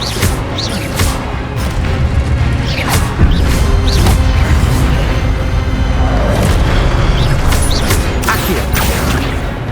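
Incendio fire spell cast in Hogwarts Legacy, a loud deep booming rumble with whooshing bursts and crackling impacts that repeat in close succession.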